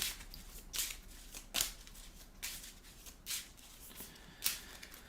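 Marvel Champions game cards shuffled by hand at a table, a series of about six brisk riffling bursts spaced roughly a second apart, close and fairly quiet.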